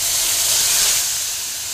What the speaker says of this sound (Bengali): এবার আমি প্রথমেই ওই তেলেই পেঁয়াজ বাটাটা দিয়ে